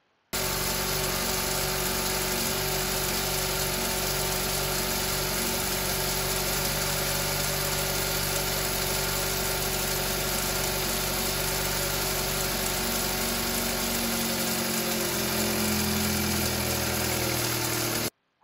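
A Kia Rio 1.6 liter four-cylinder idles steadily after a catalytic converter replacement, a constant close engine hum with mild vibration running unbroken for the whole stretch, no talking.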